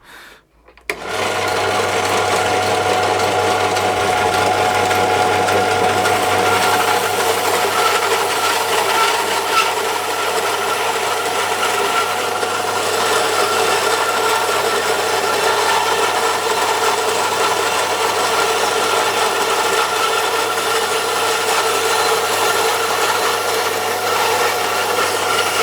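A Burgess Powerline BBS-20 Mark II bandsaw runs with a loud, steady whine and buzz as it cuts softwood, starting after a brief quiet moment and continuing unbroken to the end.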